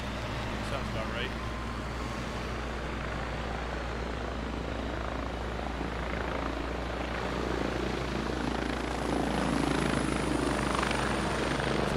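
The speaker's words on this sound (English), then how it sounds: "Being a convoy and then have a heli fly over." Helicopter flying over a convoy in a military video game, a steady loud rotor and engine roar filling the whole clip, swelling slightly near the end.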